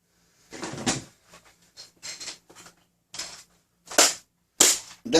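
Nerf Hyper Siege-50 blaster, spring-upgraded, slam firing: a run of sharp plastic snaps and clacks, several quick mechanical shots in irregular rhythm, the last few loudest and close.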